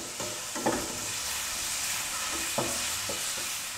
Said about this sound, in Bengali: এবার আগে থেকে করে রাখা চিকেন কিমাটুকু দিয়ে দেব তেলের মধ্যে।